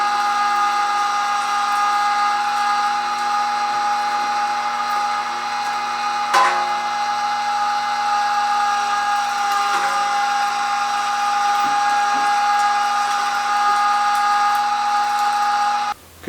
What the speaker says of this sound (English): let's get this fat taken care of.